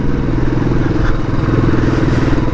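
A motorcycle on a group ride labours up a steep mountain road in first or second gear, its engine droning loud and steady with a continuous low rumble and no pauses.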